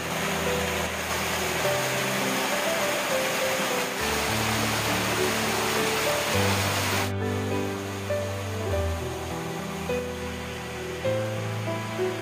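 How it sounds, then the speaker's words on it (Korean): Goundong waterfall in a forested Jirisan valley pours with a continuous, dense rushing roar, steady and close, while soft music plays underneath. "지금 보고 계시는 곳은 고운동 폭포입니다"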